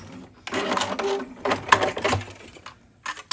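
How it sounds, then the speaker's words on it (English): A sewing machine runs in short bursts while back stitching fabric on a small earbud pouch, stopping and starting with brief pauses between runs. "before I get off of the fabric, I'll do my back stitching to secure it, and then I can stitch off"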